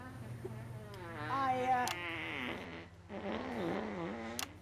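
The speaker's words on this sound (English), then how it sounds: "Is he farting?" A fart sound in the video game Not For Broadcast: long, wavering, tonal blasts, fairly quiet, with a faint background hum.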